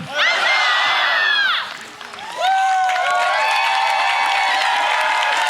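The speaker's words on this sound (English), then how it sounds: "And one more round of applause and hip hip huzzah for Squire Mongoose." A crowd at a live costumed stage event applauds and cheers, with whoops and children shouting, in two loud bursts separated by a short dip, voices rising and falling over steady clapping.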